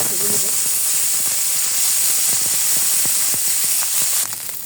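Fish rubbed with turmeric and salt fries in hot oil in a frying pan, producing a loud, continuous hiss with rapid crackling pops that eases slightly at the end.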